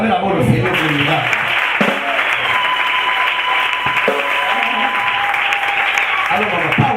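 A church congregation applauds a healing testimony with loud, sustained, dense clapping from a crowd, and voices speak over it.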